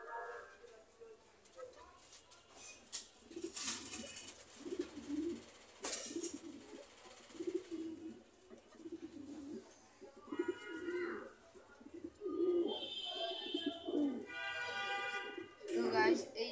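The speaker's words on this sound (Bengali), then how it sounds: "এই যে এখানে আমি একটা কবুতর নিছি।" A pigeon held close by gives soft, low, repeated coos, interspersed with quiet voices and faint background noises.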